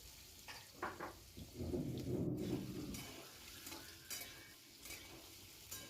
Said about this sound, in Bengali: ভালো করে আলুটাকে একটু একটু সামান্য ভেজে নিতে হবে, একটু ভালো করে।